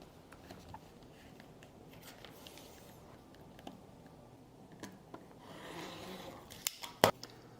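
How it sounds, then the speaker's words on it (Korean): Scissors cut a leather binding strip to length for a French binding in leathercraft: faint rustling handling, then a few sharp close snips near the end, quiet and without speech. "이 정도 길이를 체크해 놓고 우선 잘라 보겠습니다"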